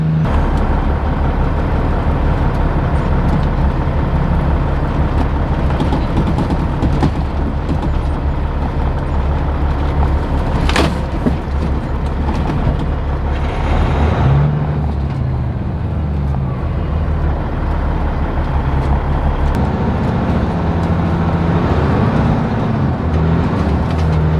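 A truck cab rumbles on its way to a farm field, with a loud, steady low engine drone and road roar throughout and an occasional clank or brief hiss, and no talking.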